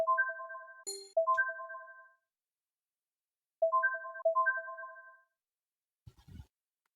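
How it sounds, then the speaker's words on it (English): A phone ringtone in the video game World End Syndrome plays as two bursts of clean electronic melodic tones separated by a pause, loud and close, followed by a brief soft click. "My phone rings."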